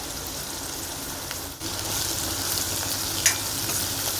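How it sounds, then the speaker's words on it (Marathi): Chopped onion, tomatoes and asafoetida fry in a pan with a continuous close sizzle and stirring, broken by a brief dip and a short scrape of the utensil. "आता सर्व परतून झालं की"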